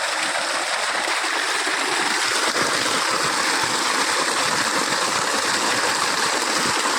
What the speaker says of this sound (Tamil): இந்த தண்ணி வந்து பார்த்திங்கன்னா காவா வழியாக போகும்